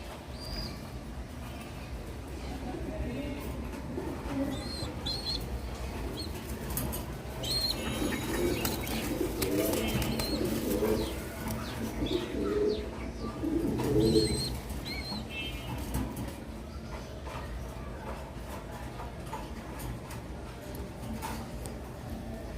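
Pigeons kept for sale in Mirpur coo softly and repeatedly while wings flap in short bursts, the birds sounding close over a faint background murmur.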